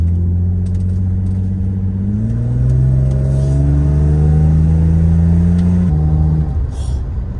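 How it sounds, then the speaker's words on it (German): A BMW E36 straight six-cylinder engine revs up to about 3000 rpm, a smooth, loud, steady drone that climbs in pitch, holds, then drops back toward idle. "dieser schöne Sound, dieser schöne Sechszylinder-Sound ist einfach genial."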